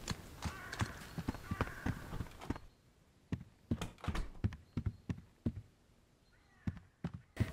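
Footsteps in the video game Hello Neighbor 2, a steady run of sharp knocking steps, loud at first and then sparser and quieter, like someone walking across a wooden house floor.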